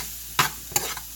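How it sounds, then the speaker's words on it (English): Onion powder being stirred into pork chop gravy in a pan: a faint sizzle runs under a few distinct scraping stirs of the utensil. "add just a little bit more of my onion powder. Just a little bit. And stir that in there."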